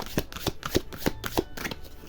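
Christmas oracle cards are shuffled by hand in a quick rhythm of about eight crisp riffling bursts, close and clear with no talking.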